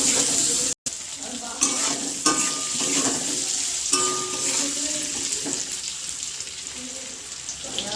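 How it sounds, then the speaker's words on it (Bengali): Potatoes with salt and turmeric frying in oil in a pan, a steady close sizzle with occasional stirring scrapes and clinks of utensil against metal, continuing throughout after a brief cut near the start. "আলু ভাজা হয়ে গেছে"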